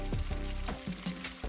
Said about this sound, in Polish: Podsmaż drobno posiekaną cebulkę i marchewkę na oleju.